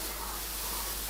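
Chopped bottle gourd hits a hot wok, the same one used for prawns. A steady, close hiss of steam and sizzle runs unbroken for about a second.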